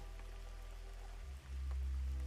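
Rain falls steadily with soft scattered drops over a low rumbling background, faint and continuous, the low drone growing slightly heavier partway through.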